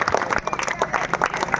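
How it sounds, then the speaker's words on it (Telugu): A live audience at a Telugu public event claps loudly and continuously, dense overlapping applause sustained throughout with a brief dip partway, no speech over it. "అందరు గట్టిగా చప్పట్లు కొట్టాలి."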